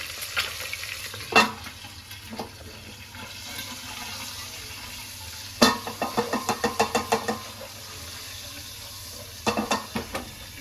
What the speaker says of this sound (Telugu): కొంచెం మంచి కలర్ వచ్చేంత వరకు ఫ్రై చేసుకోవాలి